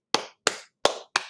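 Four sharp claps land in an even, unhurried rhythm, each crisp and close with a short decay, the hands of children clapping with nothing else heard.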